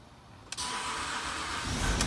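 A Range Rover Sport HSE TDV6 diesel engine cranks briefly and catches, then settles into a steady, close rumbling idle that holds loud to the end.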